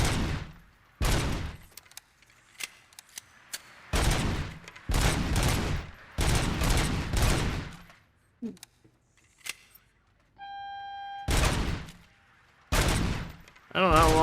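Bursts of gunfire from the shooter game RoboCop: Rogue City, loud, close volleys in several separated clusters with short pauses between, plus a brief electronic beeping tone near the end.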